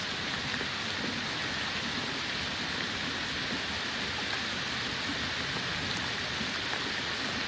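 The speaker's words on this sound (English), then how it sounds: "It rains today." Steady, dense rain hissing continuously throughout, a close and even downpour with no voices.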